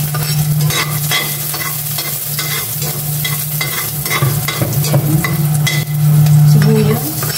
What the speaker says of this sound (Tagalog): Gisa ko yung bawang.